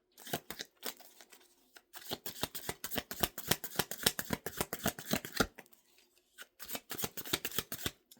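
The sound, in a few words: tarot cards being shuffled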